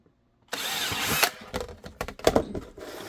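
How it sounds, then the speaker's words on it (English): A power drill whirs steadily for about a second, then bites in with a few short, uneven bursts of drilling mounting holes in a homemade holster for a Sig P365 X-Macro, close by. "And then drill those."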